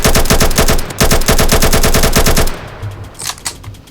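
Loud, rapid automatic fire from an AK rifle in a Roblox shooter rattles in a steady burst for about two and a half seconds, then stops, leaving quieter game sounds.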